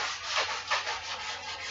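Sandpaper rubs back and forth across a wooden chess board sample in steady, close strokes, a continuous raspy scratching with no talk.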